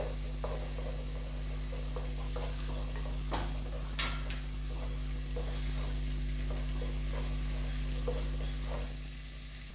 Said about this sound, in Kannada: ನೋಡಿ ಫ್ರೈ ಆಗ್ತಾ ಇರಲಿ